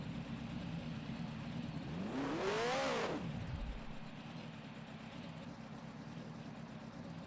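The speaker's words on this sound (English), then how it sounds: "Very revved up and then stalled." A 1974 Indianapolis 500 race car engine, an Eagle, rises in a sharp rev for about a second and a half, then drops away abruptly, leaving only steady background rumble.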